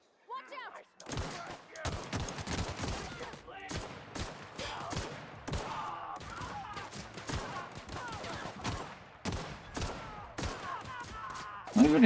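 Light machine gun in a video game firing in long rapid bursts and sustained volleys, loud and continuous, with someone talking over the gunfire.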